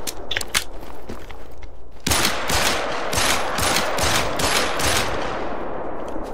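Rifle gunshots from the hunting video game theHunter: Call of the Wild with a 10mm rifle, fired in a rapid string of sharp cracks, loud and close, with no voices.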